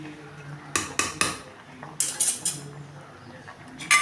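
A pot of cooked rice handled for draining: a few sharp metallic clanks and knocks in quick clusters, close by, with quiet gaps between.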